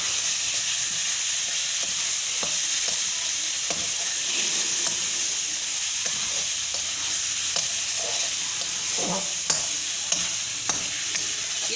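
Ground chutney frying in a pan, a loud, dense and continuous sizzle with scattered stirring scrapes throughout, close by and with no voices.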